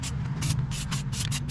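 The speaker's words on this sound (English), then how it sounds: "spray generously." Repeated hissing bursts of aerosol spray paint on roof rack parts, several short sprays in an uneven rhythm, close by over a low background hum.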